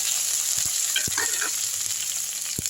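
Cumin seeds and curry leaves frying in hot oil, a steady bright sizzle with a few small pops and crackles, heard up close with no talking.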